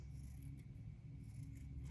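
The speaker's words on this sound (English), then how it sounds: "we're going to take our sharp scissors and we're going to cut off the sleeves" Sharp scissors snip through the fabric of a t-shirt to cut the sleeves away, giving quiet, close scraping cuts over a low room hum.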